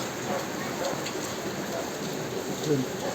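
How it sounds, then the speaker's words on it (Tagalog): Steady rain hisses throughout, a dense wash of falling water with faint scattered drips, fairly close and unbroken. "Pabugso-bugso ang ulan"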